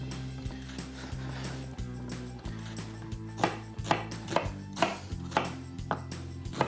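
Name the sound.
dicing yam with a knife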